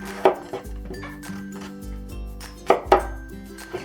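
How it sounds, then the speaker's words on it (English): A knife trims eggplant on a cutting board close up, a few sharp separate chops with soft knocks and light clinks between them, no talking. "For the prep, let's start with cutting the eggplant."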